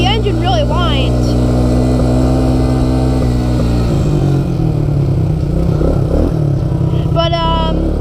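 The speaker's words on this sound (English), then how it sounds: "when you get past like half throttle, the engine really whines." ATV engine at high throttle, a loud continuous whining drone with shifting pitch throughout, rising sharply in a couple of bursts, heard close up with a voice speaking over it.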